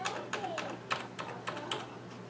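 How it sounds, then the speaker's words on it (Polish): Computer keyboard keys tapped while entering a Wi-Fi network password, a sparse series of about eight close, crisp clicks spaced unevenly over a couple of seconds, with no talking. "wpisujemy hasło zabezpieczające sieć"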